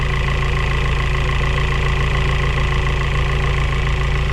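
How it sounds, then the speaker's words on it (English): A 4A-GE 20-valve engine idles steadily up close, with a fast, even ticking from a faulty VVT pulley running through the constant hum the whole time. "You can hear how the clicking goes away."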